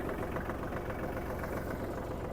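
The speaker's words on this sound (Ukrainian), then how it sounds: "карданчик крутиться та фреза працює" A Kubota GL-25 Japanese mini tractor runs its rotary tiller with the driveshaft turning, producing a steady, loud, close-up engine drone with a continuous rumbling clatter.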